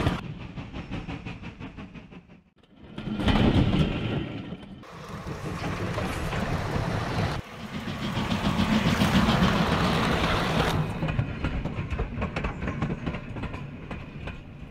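Train recorded on the Bluebell Railway, a loud rumbling passage with rhythmic wheel clatter and a brief dip before the noise swells again, steady and close throughout.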